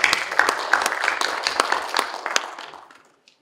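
A conference audience at a marine and fisheries experts' meeting claps in a burst of distinct, close handclaps that fade out over about three seconds into silence.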